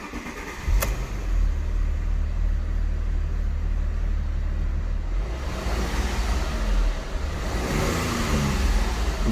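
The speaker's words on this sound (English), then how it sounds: "So let's listen to the engine now." A 41,000-mile Alfa Romeo GTV V6 cranks and fires with a sharp click, then settles into a steady, smooth low idle close by, with a slight rise in revs near the end.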